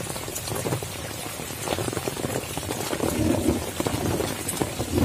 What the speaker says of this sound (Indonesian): Hujan pun tak berhenti.